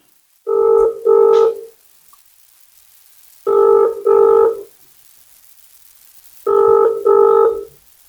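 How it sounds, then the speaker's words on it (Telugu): An outgoing phone call to a teacher rings without being answered: three evenly spaced double-pulse ringback tones, clear and loud, with near silence between each pair. "టీచర్ ఫోన్ ఎత్తట్లేదు కదా పాపం."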